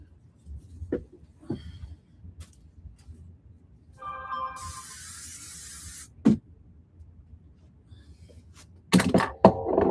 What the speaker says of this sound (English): I'm going to use the paper adhesive spray that I use.